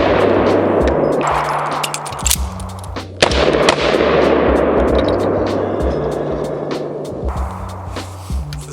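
Stock SIG Sauer P365 XMacro pistol with standard grip and 3.7-inch slide and barrel, fired outdoors: a run of sharp, loud shots at uneven intervals over a steady, busy background bed.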